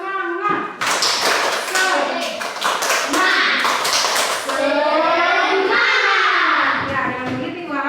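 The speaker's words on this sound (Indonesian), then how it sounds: "Tepuk semangat." A class of schoolchildren performs a rhythmic spirit clap, with loud, close clapping in patterned bursts mixed with the children's chanting voices.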